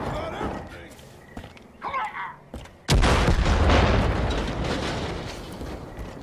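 Aircraft strafing run in the video game Far Cry 5: scattered thuds and clatter, then a sudden loud blast at about three seconds followed by a sustained roar of gunfire and explosions that slowly fades.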